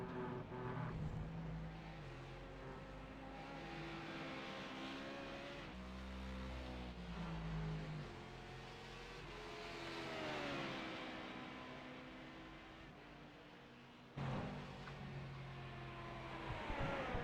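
Race car engines in an IMSA sim race at Road Atlanta, with the HPD prototype among them, howl through gear changes as revs climb and drop through a right-hander, one car near and loud, with a sharp jump near the end.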